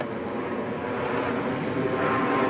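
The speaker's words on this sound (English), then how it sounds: "Making a jet-like sound." A jet-like engine roar from an unidentified triangular craft passing overhead at night, a steady broadband rumble that swells slightly louder over a couple of seconds, with no voices.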